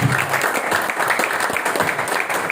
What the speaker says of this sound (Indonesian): Ya tepuk tangan untuk Bapak Ibu.